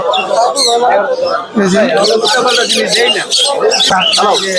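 Caged birds at a busy Dhaka bird market, with bright chirps and warbles threaded through and under the steady talk of people nearby, fairly loud and close throughout.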